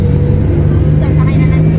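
Steady engine drone and road rumble from inside a bus heading to Pasay, loud and continuous for the whole short stretch.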